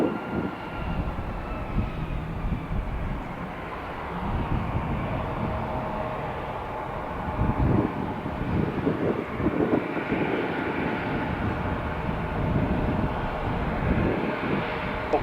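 A departing airliner, an Airbus climbing out from Detroit Metro Airport, produces a steady broadband engine roar that swells gradually over fifteen seconds, moderately distant and heard alone.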